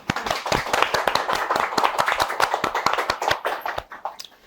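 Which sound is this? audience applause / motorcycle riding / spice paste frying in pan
audience applause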